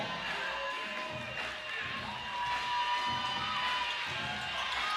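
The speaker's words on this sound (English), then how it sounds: "Crowd is amped up for Mist, one of the fan favorite teams for the season" An arena crowd at an Unrivaled women's basketball game roars and cheers for team Mist, a steady dense wall of cheering with whoops and shouts rising and falling across the clip.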